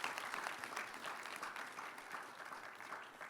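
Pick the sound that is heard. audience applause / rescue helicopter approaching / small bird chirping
audience applause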